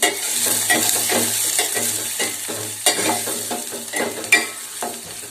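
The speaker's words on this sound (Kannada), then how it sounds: "ಮತ್ತು ಈರುಳ್ಳಿಯನ್ನು ಸೇರಿಸ್ತಾ ಇದ್ದೀನಿ ಈರುಳ್ಳಿ ಕಲರ್ ಚೇಂಜ್ ಆಗೋ ನಾವು ಎಣ್ಣೆಯಲ್ಲಿ ಏನು ಮಾಡಬೇಕು ಬಾಡಿಸ್ಕೋಬೇಕು" Onion frying in oil in a pan with green chillies and curry leaves, a steady close sizzle broken by repeated rhythmic scrapes and clinks of a spoon stirring it, with no talk.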